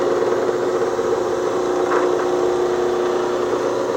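A homemade 12 inch disc sander driven by a Baldor motor runs smoothly, giving a steady, loud, even hum with a constant whirring tone and no talking.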